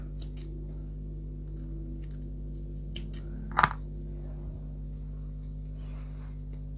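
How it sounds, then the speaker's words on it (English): Scissors snip yarn ends on a crocheted checkered bag: one crisp cut near the middle, with a few faint clicks before it, in a quiet room. "you can cut both ends"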